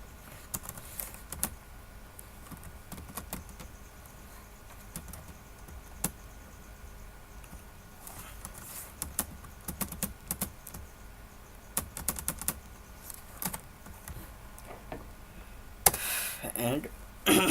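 Typing on a computer keyboard in scattered bursts of light clicky keystrokes, quiet and close, with a low background hiss and a brief louder rustle near the end.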